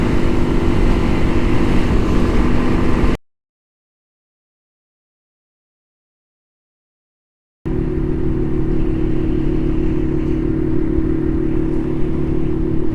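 A 2012 Yamaha XT250 motorcycle engine drones loudly and steadily while riding on a highway, with wind roar; the sound cuts out completely for several seconds in the middle, then resumes.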